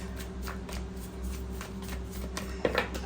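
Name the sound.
shuffling tarot cards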